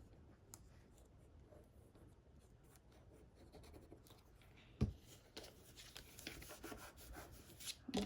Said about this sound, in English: just pushing all that down and getting rid of any excess glue